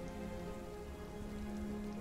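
Rain falling as a dense, steady patter that stays even and quiet for the whole brief stretch, with no voices over it.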